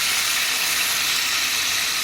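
Tomato pieces dropped into a hot pan of fried onions while cooking pepper chicken fry, giving a steady, loud, close sizzle and hiss that holds evenly throughout with no voices.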